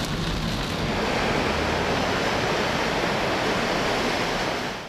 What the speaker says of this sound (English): rainstorms in Tseung Kwan O so intense that it was hard to see the road ahead